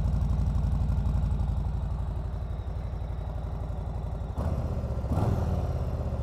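A 2021 Harley-Davidson Softail Slim motorcycle idles with a low, steady, even pulse. The engine is fairly quiet and stays constant, and a couple of brief knocks or bumps break in near the end.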